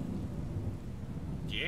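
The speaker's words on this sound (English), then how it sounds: "thunder." Thunder in the video game Skyrim rumbles low and steady with the hiss of rain throughout, fairly loud, and a brief higher tone enters at the very end.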